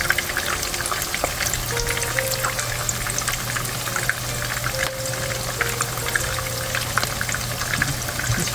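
Zucchini fritters fry in a hot oil-filled pan with a constant loud crackling sizzle, close up and steady, with faint kitchen hum beneath.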